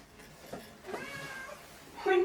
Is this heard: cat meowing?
yes